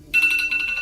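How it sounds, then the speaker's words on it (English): A phone alarm ringtone goes off, a bright, rapidly pulsing electronic tone that starts abruptly and lasts under a second, close and loud. "That's my alarm to let me know it's 6."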